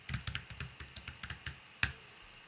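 Someone types a password on a Mac computer keyboard: a quick run of about a dozen crisp, close key taps, then a short pause and one final sharper press, with no talking.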